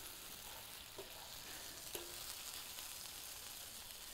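Chicken thighs sizzle steadily on a Blackstone griddle, a soft continuous hiss with a few faint scrapes and clicks as the pieces are flipped, and no one speaking.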